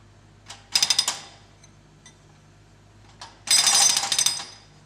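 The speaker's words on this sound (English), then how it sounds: "In the digger cabin, a man controls the digger arm and breaker" Two bursts of rapid, loud hydraulic breaker hammering on a digger arm breaking pavement, a short rattling burst and then a longer pounding one, separated by a quieter pause.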